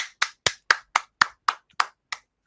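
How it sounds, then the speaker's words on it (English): One person claps alone for a speaker at a trading talk, about ten sharp, evenly spaced claps in a quick steady rhythm with silence between them. "So with a round of applause, Des, we'd like to make you welcome."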